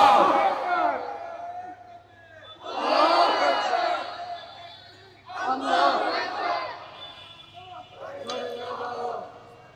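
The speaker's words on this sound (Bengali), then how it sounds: "কারা কারা রাজি আছো তাকবীর দিয়ে আল্লাহকে দেখাও।" A large crowd at an Islamic religious gathering (tafsir mahfil) shouts the takbir in three or four loud, surging collective bursts, each swelling and fading, with a steady low hum beneath.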